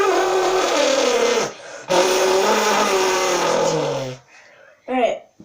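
A man imitates a hypercar engine with his mouth, a loud, buzzing, rising rev held for long stretches with brief breaks between bursts, close to the microphone, ending in a short trailing vocal sound.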